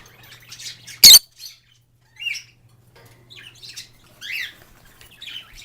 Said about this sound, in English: but there's my new bird.